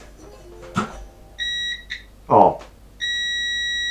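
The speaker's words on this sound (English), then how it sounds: "but that should give me the beep." A CozyTek CZ20000PH digital panel heater with a no-power fault gives two sustained electronic beeps, close and clear, separated by a pause, with a person briefly speaking between them.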